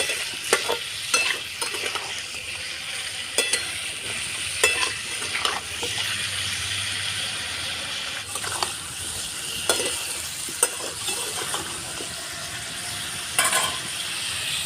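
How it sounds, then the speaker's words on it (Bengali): Chicken masala spices with salt lightly frying in a pan, a soft steady sizzle broken by repeated scraping stirs and occasional utensil clinks, close and alone. "একটু হালকা ভেজে নেবো"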